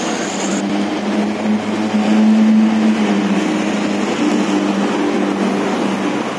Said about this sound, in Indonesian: Bis dari Garut.